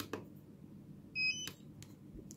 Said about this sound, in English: as soon as you hear the beep